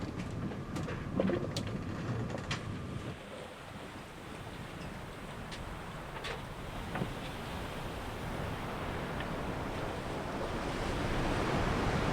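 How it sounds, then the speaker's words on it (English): Wind rushes and waves wash against a sailing boat at sea in a continuous, fairly faint roar. A few light knocks and creaks stand out early on, and the wash swells slightly toward the end. "Gisteravond kwam er wind. En nu zeil ik."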